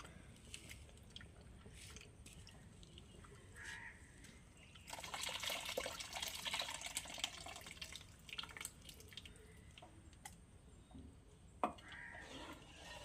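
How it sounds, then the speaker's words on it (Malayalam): Tamarind water is poured into a pot of curry, a soft trickling splash that swells for a couple of seconds midway, set among faint drips and quiet kitchen background. "അടുത്ത് നമുക്കിനി പുളിവെള്ളം ചേർത്ത് കൊടുക്കാം"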